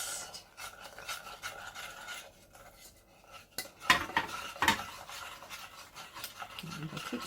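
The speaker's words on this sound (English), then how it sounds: "And I keep stirring until it's smooth-ish." A spoon stirs custard powder, sugar and a splash of milk into a paste in a bowl, close scraping and clinking against the sides, with a couple of sharper knocks midway and faint background sounds.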